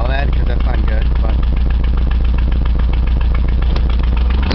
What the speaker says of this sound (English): I was told Rod Knock by one person, and by a mechanic I was told severe internal engine trouble